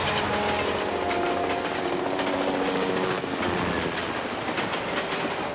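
A moving train rumbles continuously with a loud, dense roar and rhythmic clattering of wheels over rails, heard up close without any talking.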